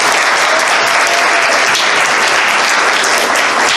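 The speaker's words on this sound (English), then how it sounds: "Let's give them another round of applause." An audience at a furry convention open mic bursts into loud, dense applause, continuous clapping from a full room without a break from start to end.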